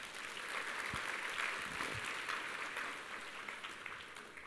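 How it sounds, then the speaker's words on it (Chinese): Audience applause at a direct-sales seminar, a steady wash of many hands clapping throughout, fairly quiet and even, with no talk over it. "给自己一个掌声。"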